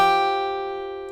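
A guitar string pair, 4th and 1st, sounded with a down-up pick stroke: a single ringing chord-like tone that slowly decays, close and alone without speech.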